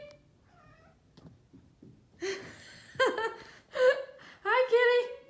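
A cat meows repeatedly while climbing stairs, a few faint chirps first, then several louder, rising calls close by.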